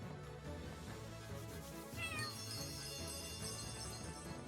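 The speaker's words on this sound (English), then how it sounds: "We gave the cat scritches." A cat meows while being petted in the game Chained Echoes, a short, soft meow and a brief higher mew over a quiet musical background, with nobody talking.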